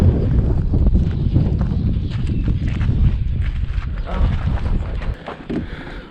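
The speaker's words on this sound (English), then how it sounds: "Got windy, didn't it?" Strong wind roars steadily against the microphone, a loud continuous rumble with gusty fluctuations throughout.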